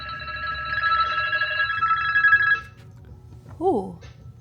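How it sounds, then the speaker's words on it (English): Hotel room telephone ringing in a Las Vegas resort, a bright electronic trill lasting about two and a half seconds before cutting off, followed by a brief spoken voice. "The phone is ringing."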